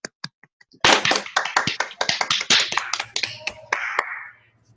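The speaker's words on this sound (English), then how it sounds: "Round of applause." Hand claps from a small audience after a short talk, starting as a few scattered claps, then swelling into a dense burst of applause for a few seconds before thinning out and stopping.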